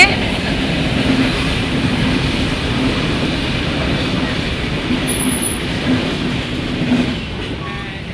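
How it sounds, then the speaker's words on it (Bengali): A train passing near a crowded roadside auto stand, producing a steady, continuous rumble with a faint high whistle partway through, under occasional voices. "এই যে ট্রেন যাচ্ছে"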